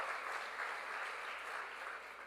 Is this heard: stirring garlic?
no